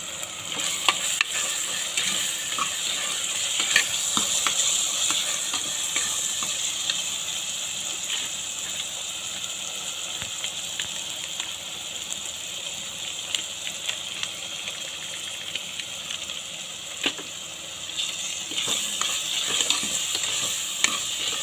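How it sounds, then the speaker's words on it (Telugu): Tomatoes and taro for an Andhra-style curry cook in a pan, a steady close sizzle with bubbling and occasional stirring clicks running unbroken, no voices. "ఈ టమాటోస్ సాఫ్ట్గా కుక్ అయిపోవాలి."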